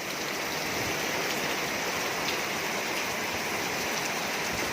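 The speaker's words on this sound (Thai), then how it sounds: "เนี่ยฝนสาด" Heavy rain pours steadily at Nong Kraria, splashing and running as a dense, loud, continuous hiss of water with no break across the whole stretch.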